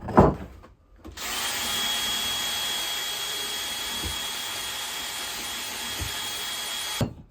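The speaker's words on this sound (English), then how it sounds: "if you can get your hands on one of these little cylinder sanders, these work out great." A power drill spins a small cylinder sander held in its chuck, starting after a short clatter and running as a loud, steady whine for about six seconds before stopping.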